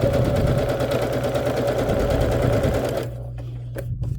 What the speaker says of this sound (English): and then sew some more